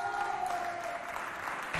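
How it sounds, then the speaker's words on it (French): An audience applauds the Sainte-Thérèse d'Avila parish youth group at a community youth event; a steady, dense wash of clapping holds at an even level throughout, close and unbroken. "Est-ce qu'on peut applaudir pour la paroisse?"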